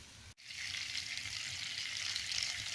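Food sizzling steadily on a Biolite FirePit griddle over a wood fire, a brief clatter as pieces are flipped, then continuous close hissing frying.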